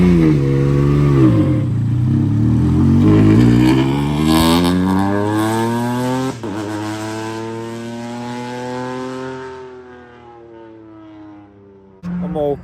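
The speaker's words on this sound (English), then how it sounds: "That was just a Subaru that went past." A Subaru rally car at an Australian Rally Championship event roars past with a lumpy, rising then falling engine note, loud and close before fading away, with a second vehicle briefly cutting in at the end.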